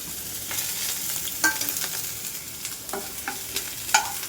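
Noodles sizzle in a hot pan while a utensil scrapes and stirs, with a few sharp clinks against the pan.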